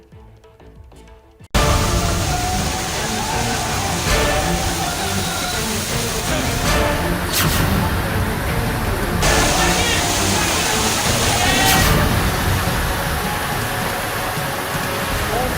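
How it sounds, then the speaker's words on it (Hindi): Heavy monsoon rain pours down across a Rajasthan city, a dense, loud, steady roar of water that starts abruptly after a brief quiet moment and continues without a break. "राजस्थान के कई शहर बहुत ज्यादा बारिश की तबाही इस वक्त झेल रहे हैं"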